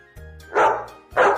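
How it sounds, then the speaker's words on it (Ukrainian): A dog gives two loud, close barks about half a second apart, each preceded by a softer whine-like onset. "ця тваринка гавкнула та весело завиляла хвостиком."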